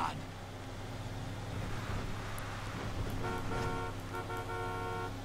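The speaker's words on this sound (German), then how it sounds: "Da müsste ein richtiger LKW-Hupe rein" In Grand Theft Auto V, a vehicle horn toots in a series of short, rhythmic honks over steady engine and road rumble, fairly close, with no talking.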